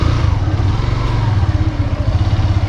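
A CT rickshaw motorcycle engine drones steadily and loudly at close range while riding through Damak Bazar, with a low, even rumble and slight rattle throughout.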